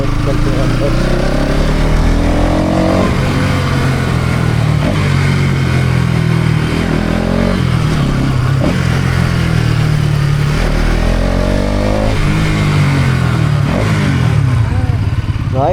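A motorcycle engine runs loud and close while the bike is ridden, with a steady droning hum that rises and falls with the throttle, and voices talk over it at times.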